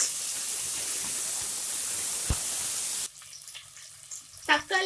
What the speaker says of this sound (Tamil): இஞ்சி பூண்டு பேஸ்ட் ஆட் பண்ணிக்கலாம். ஆட் பண்ணி நல்லா மிக்ஸ் பண்ணி விட்டுக்கலாம்.